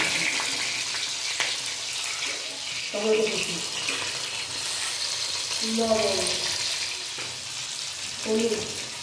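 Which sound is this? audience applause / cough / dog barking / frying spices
frying spices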